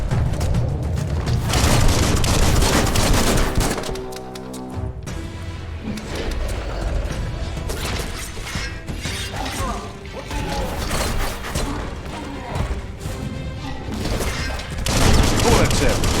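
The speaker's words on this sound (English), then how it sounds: "Bullets everywhere." Gunfire rings out during a Biomutant fight as a mercenary-class character, with rapid bursts of shots, heavy impacts and booms layered over game music and effects, loud and busy throughout with a brief lull partway.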